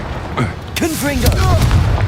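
A Confringo spell blast in Hogwarts Legacy, a booming burst of magical impact amid combat effects, heard just after a voice shouts a spell incantation.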